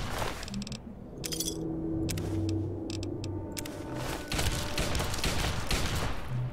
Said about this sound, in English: Yeah, I keep shooting at him.